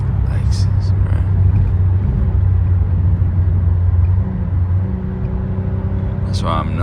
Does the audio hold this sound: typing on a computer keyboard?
no